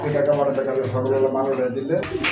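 Chocolate-coloured Raj Golla pigeons, a male, a female and a young squab, coo softly in a loft, heard under close, continuous talking.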